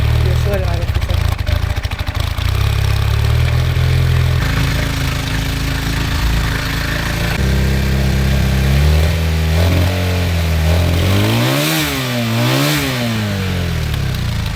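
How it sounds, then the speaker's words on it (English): A vintage motorcycle engine runs close and loud, idling steadily at first, then rising and falling in pitch as the throttle is blipped. "Just let it idle for a second."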